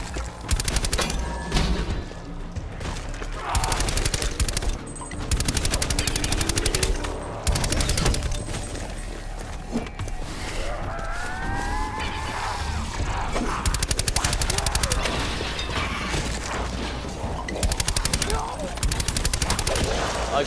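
Rapid automatic gunfire bursts in Call of Duty: Black Ops 4, loud repeated volleys separated by short pauses, with players talking over the shooting.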